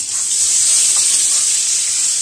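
Potato pieces sizzling in hot oil in a home kitchen, a steady, loud, close hiss of frying that holds evenly throughout with no talking.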